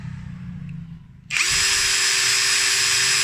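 A Nagawa NID213K impact driver, heard after a quieter low rumble, suddenly starts up and runs at high speed with a loud, steady, high-pitched motor whine that holds to the end.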